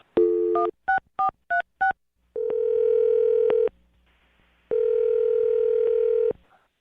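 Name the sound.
telephone number being dialed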